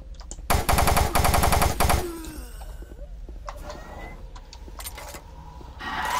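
A chain gun in Doom 3 fires a loud, rapid burst of close shots lasting about a second and a half, then gives way to quieter clinks, mechanical rattles and faint game noises.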